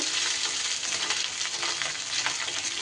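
Grated ginger sizzles and fries steadily in a hot pan for a vegetarian mixed-vegetable dish, a dense continuous crackle with faint stirring, close and alone without talk.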